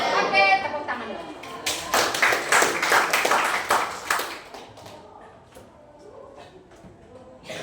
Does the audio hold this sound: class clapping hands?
yes